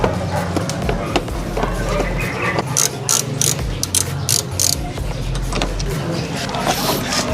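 Screws come out of the side skirt of a Honda Click 160 scooter, a rapid ratcheting click of a hand tool in close, busy bursts with brief pauses, heard alone.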